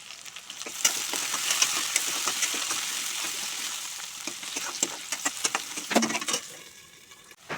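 Potatoes, capsicum and cabbage fry in a pan with a continuous close sizzle, crackling pops scattered throughout and occasional louder spits, with no talking.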